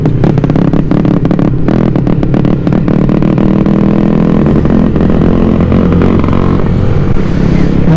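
A Yamaha Sniper 155 motorcycle rides on a busy road, its engine droning loud and close without a break, with brief clattering and rising revs over the steady roar.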